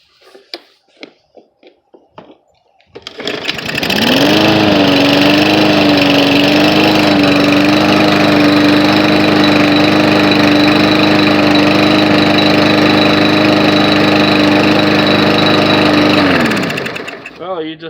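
A Briggs & Stratton lawn mower engine, run without its air filter, fires up after a few short pulls and runs loud and steady with a droning hum for about thirteen seconds before cutting off.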